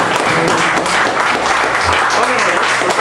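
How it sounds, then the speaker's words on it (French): Warm applause from the audience at a poetry evening, a dense burst of clapping that stays steady and close for a few seconds, with some voices mixed in. "On applaudit Grégoire."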